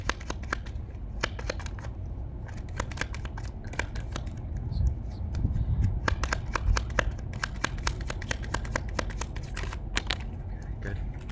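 Tarot cards are riffled and shuffled by hand in rapid crisp bursts, close and fairly loud, with brief pauses between runs and a soft background hum.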